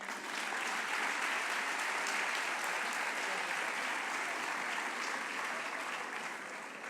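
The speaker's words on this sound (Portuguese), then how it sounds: "já que estamos a bater palmas" An audience at a national education seminar applauds steadily after a champion and vice-champion student are introduced. The clapping is dense and sustained for the whole stretch, with no break in the sound.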